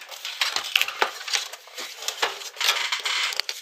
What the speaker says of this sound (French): Donc je règle mon masticot sur pointillé.